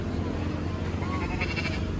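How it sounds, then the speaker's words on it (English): A goat bleats once, wavering and moderately close, over busy background noise at the Wilson County Fair. "Goat."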